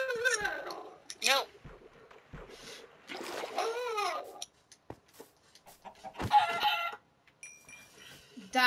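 Minecraft chicken clucking in a video game, several short clucks scattered between bursts of excited talk from players.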